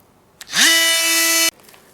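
A small power tool whines up to a steady high-pitched drone for about a second, then cuts off abruptly while trimming pine branches for a Christmas planter.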